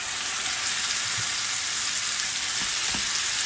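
Beef sears in hot oil in a pan, giving a loud, continuous, close sizzle with a few faint knocks.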